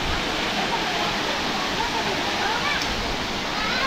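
Kakawayan Falls in Infanta, Quezon pours in a steady, dense roar of falling water, loud and close, filling the whole stretch without a break.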